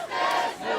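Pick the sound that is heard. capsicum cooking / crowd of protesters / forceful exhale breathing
crowd of protesters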